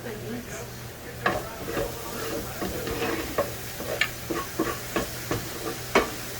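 Whisking for shrimp and grits in a pot, a run of sharp rhythmic taps and scrapes of the whisk against the sides over a soft background hiss, close and fairly clear.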